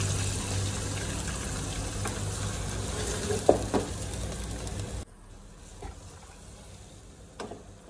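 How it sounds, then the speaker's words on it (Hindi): Chicken masala fries in a pan with turmeric, red chilli, salt, coriander powder, crushed red chilli and a little water, a constant sizzle with a few stirring knocks, then a quieter simmer after a sudden drop. "अब इसे हम अच्छे से भून लेंगे।"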